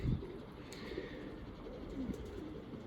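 Soft, low pigeon coos sound faintly against a steady background hum, with a couple of brief cooing phrases.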